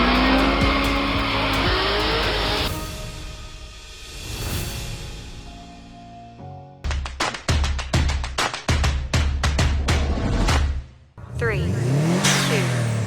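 Corvettes at the third Gulf Drag Race Championship at Emirates Motorplex: a loud engine roar and revving, then tire squeal and rapid popping exhaust bursts up close, ending in a rising rev with whining tires.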